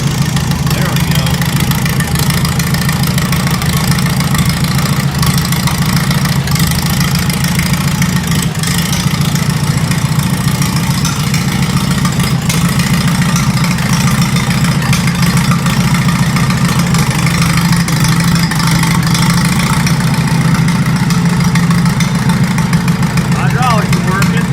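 Farmall Super A tractor engine running loud and close, a steady low throbbing drone that holds unbroken for the whole stretch.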